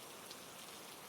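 Steady rain falling on a surface at night, a constant dense hiss of drops with no breaks, soft and even throughout, no voices.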